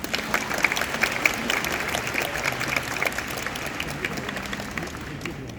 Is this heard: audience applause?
yes